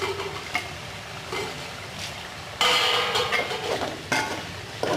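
Tomatoes sautéing in a pan for Tamil-style pepper chicken, a soft sizzle with scraping and stirring clatter, louder bursts as the spoon works the pan.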